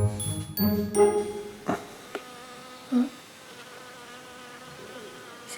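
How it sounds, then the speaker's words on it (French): A fly buzzing near a gorilla enclosure, a few short, close, loud whining bursts with brief sharp knocks between, then a quieter, steady background hum. "C'est quoi cette mouche?"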